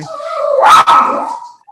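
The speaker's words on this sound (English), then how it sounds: "sorry about my barking dog in the background." A single loud, drawn-out dog bark or yelping howl close by, rising then trailing off, with no talking.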